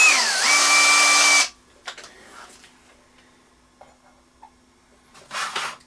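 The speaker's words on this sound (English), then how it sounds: "so I don't end up drilling the bench." A power drill with a 3mm bit whines loudly for about a second and a half as it bores through a jig plate on a workbench, then stops, leaving faint clicks and handling noises.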